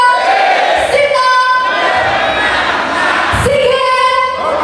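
A rally crowd chanting a campaign slogan together in loud, rhythmic unison, with repeated shouted syllables over a dense, close, enthusiastic crowd roar.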